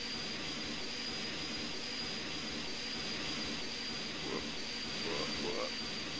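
A helicopter engine in a flight simulator game whines and hums steadily, a constant broadband drone with a thin high tone, fairly faint and unbroken.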